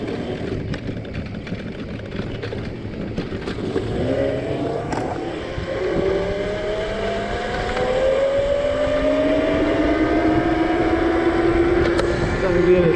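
A Razor SX500 electric dirt bike is ridden toward a gas station, its motor whine climbing steadily in pitch over rough rolling and wind noise as it gains speed.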